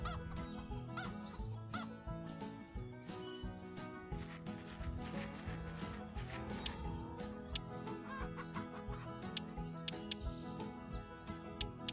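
Chickens cluck continuously in the farming video game Hay Day, a busy, dense layer of clucks and game sounds with no talking.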